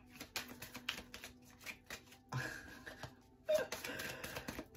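A deck of tarot cards being reshuffled by hand, soft close riffling and rapid papery taps in bursts with short pauses between them.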